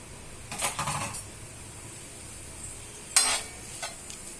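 Onions sautéing in a pan for wheat rava dosa chutney, a faint low sizzle with two brief bursts of spatula stirring and scraping, nearby and without speech.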